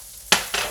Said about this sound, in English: Then add all the aromatics in here. And just stir those until they're fragrant.